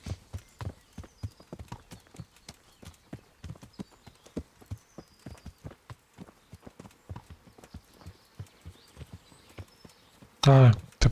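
Horse hooves clip-clop in the video game Kingdom Come: Deliverance, a steady trotting rhythm of sharp close hoofbeats throughout, ending in a loud burst.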